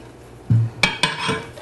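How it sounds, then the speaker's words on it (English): Spoon stirring bacon through a frittata mixture in a pan, a few sharp scraping clinks against the metal over a low background hum. "And give it another good stir"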